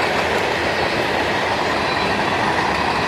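A CSX freight train rolls past at close range, led by a GP40-2 originally built for the Chesapeake and Ohio and a GP40 road slug from the Baltimore and Ohio. The wheels and cars give a loud, steady roar with no voices.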